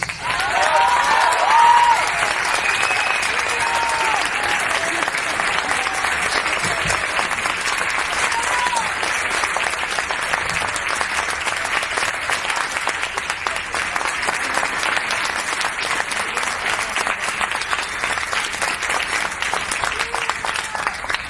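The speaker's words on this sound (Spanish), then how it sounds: "Vamos a recibir ahora también con un fuerte aplauso a Carlos Núñez Cortés." An audience gives a strong, steady round of applause to welcome Carlos Núñez Cortés of Les Luthiers, continuous clapping from a full hall that swells briefly at the start and then holds evenly.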